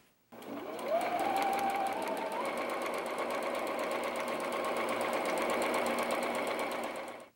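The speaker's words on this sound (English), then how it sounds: "I'm able to sew my 1/4 inch seam and have a perfect triangle" A sewing machine stitches a quarter-inch seam through patchwork fabric while piecing triangle units, making a steady, close, continuous whir that runs unbroken for about seven seconds with no talk.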